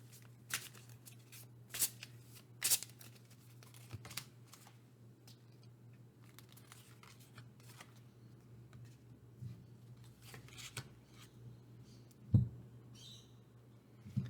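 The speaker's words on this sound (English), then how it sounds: "I'm just going to pull 3 Astro Chakra cards for you" Astro Chakra oracle cards are shuffled and drawn, soft intermittent papery flicks and riffles close by over a low steady hum.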